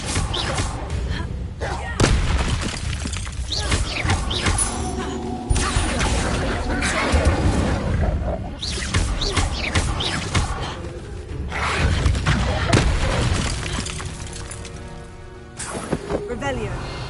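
Fiery magical blasts and crashing impacts from an Incendio fire spell cast in the video game Hogwarts Legacy, repeated across busy game noise while a voice talks over much of it.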